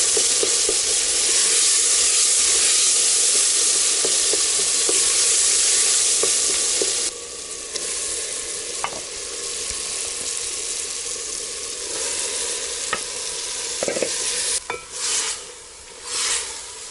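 Tomatoes fry in oil in a pot with a loud, steady sizzle, while stirring adds scraping and clinks. The hiss fades somewhat partway through, and later comes a few utensil knocks.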